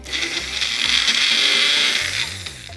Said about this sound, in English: just because we're using this little blender here, we kind of gotta also get friendly with it